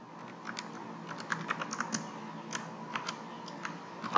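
Typing on a computer keyboard while entering a C++ include line, with a rapid irregular series of close, crisp key clicks over a quiet background, no speech.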